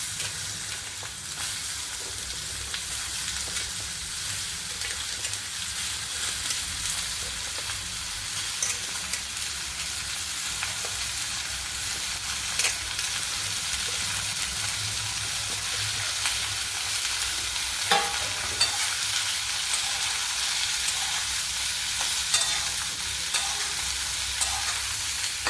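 Sliced ridge gourd frying in oil in a pan while being stirred, a steady loud sizzle with intermittent scraping and clicks of the spatula throughout.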